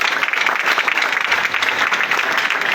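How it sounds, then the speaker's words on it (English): Steady audience applause at a Neolife business event honoring a top distributor, a dense wash of many hands clapping continuously at fairly loud volume, with no voices over it. "Applause to Charlie Boating."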